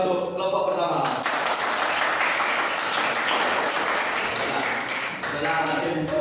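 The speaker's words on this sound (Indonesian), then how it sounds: "Ya, beri aplaus dulu yang meriah untuk kelompok pertama." Classmates give dense, lively applause for the first discussion group in a school fiqh lesson, a continuous clatter of clapping filling the room with voices mixed in.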